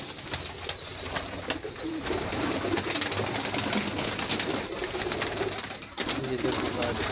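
A native dove coos softly in a rural yard near a pigeon house, low repeated calls sitting under steady outdoor background noise.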